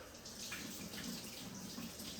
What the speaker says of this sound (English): First thing we want to do is just wet your hands with some warm water.